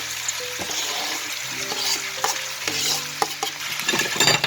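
Chopped, thinly sliced onions sizzle in a hot pan beside browned chicken thighs, with a spoon scraping and stirring in short strokes over the steady frying hiss, close by.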